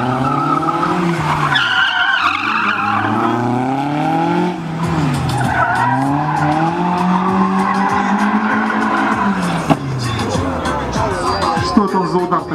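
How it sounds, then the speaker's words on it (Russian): A Peugeot 205 brakes hard and skids with a loud, sustained tire squeal during a speed-maneuvering race in Mogilev, tire noise sweeping up and down in pitch over engine drone while a commentator talks throughout. "пока мы видим, что Евгений сейчас на тормозе"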